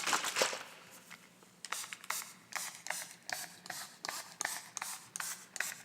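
A hand-pumped spray bottle misting a room spray, about a dozen short hissing bursts in an even rhythm, close and fairly quiet, with a softer rustle at the start.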